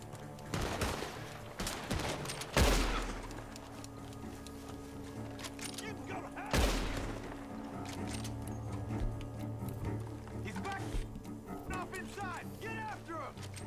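Gunfire cracks in sharp bursts amid a busy mix of Red Dead Redemption 2 game sounds and music, with a couple of louder shots standing out and voices talking throughout.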